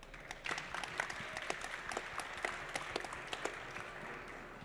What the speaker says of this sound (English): Big hand of applause for Ashley.